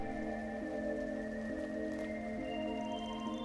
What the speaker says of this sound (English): See, light drizzle.